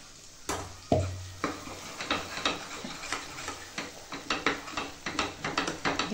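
Masala for a dhaba-style mutton curry fries in a pan while being stirred, with a sizzling bed under a quick, fairly regular run of scraping ticks from the spoon, loud and close.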